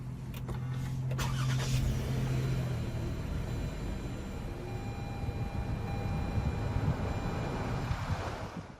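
A Toyota Sienna XLE minivan starts with its push button, a short starter crank and a couple of clicks leading into a steady, fairly loud engine idle heard from inside the vehicle.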